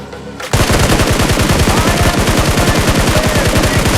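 Automatic gunfire in the video game PUBG breaks out after a brief quiet moment, a loud, rapid, evenly spaced burst of shots that continues to the end.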